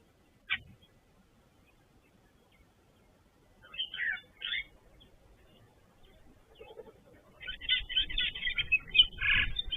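Scattered calls of grey go-away birds and red-billed buffalo weavers chirp at a distance at an African waterhole, sparse at first and then growing busier and more layered toward the end over low outdoor rumble.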